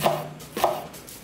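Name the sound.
knife slicing onion into thin strips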